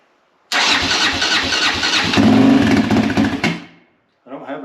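A four-stroke engine with a janky throttle cable and no working choke cranks and catches, running loudly for about three seconds with a surge before cutting out, then briefly restarting.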